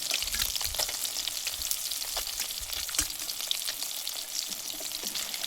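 Fish pieces frying in hot oil give a steady, dense crackle and sizzle close up, with a few louder pops and no talking.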